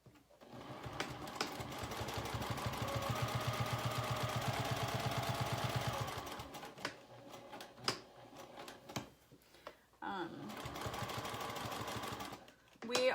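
A sewing machine stitches a zipper pouch in one steady run for about six seconds, followed by scattered handling clicks and a second short burst of stitching near the end.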